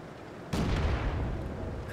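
Artillery fire in the tank battle game World of Tanks: one deep, booming blast that hits suddenly and rumbles on for the rest of the moment, no voices.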